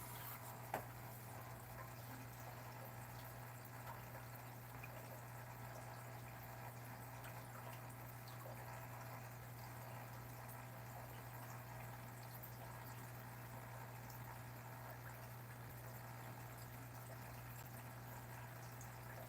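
A small magnet-driven aquarium water pump with its impeller spins steadily in a tank of cold water for discus fish, giving a constant low hum under faint water trickle, with no talking throughout.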